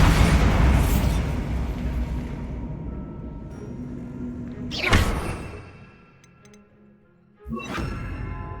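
Casting the Bombarda spell in Hogwarts Legacy sets off a booming blast with a whoosh and crackling debris, followed by a second burst a few seconds later.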